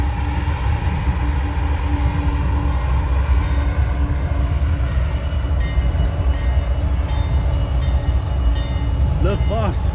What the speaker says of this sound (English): Look, boss, it's the train.